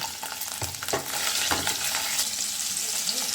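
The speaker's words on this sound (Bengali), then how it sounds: "পনিরগুলো আমি সব তেলের মধ্যে দিয়ে দিলাম এইগুলো একটু হালকা করে আমি ভেজে নেব" Paneer pieces fry in hot oil in a pan, a steady close sizzle broken by a few quick stirring scrapes near the start, with no speech.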